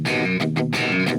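A short riff on a distorted electric guitar in a modern rhythm style, where a picked note goes into an open hammer-on, giving loud, thick chugging chords with brief gaps between them.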